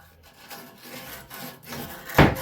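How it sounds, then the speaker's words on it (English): Scraping and rasping of a tool scoring a rusty ball joint hole on a first-generation Toyota Tundra truck, a few soft rubbing strokes ending in one louder, sharper scrape. "Scoring this so that any rust particle that is inside comes out."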